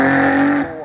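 A car with a new V12 engine accelerates hard up the Goodwood Festival of Speed hillclimb. The engine gives a loud, close, high-pitched scream with rising harmonics, then cuts off abruptly as it passes.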